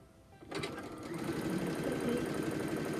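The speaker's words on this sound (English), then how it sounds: "I'm going to bring it over to my machine and I'm going to sew those seams down, just right along the edge" A sewing machine runs at a steady fast pace, stitching seams along the edge of fabric pieces for microwaveable handwarmers, starting abruptly after a brief quiet and whirring continuously up close.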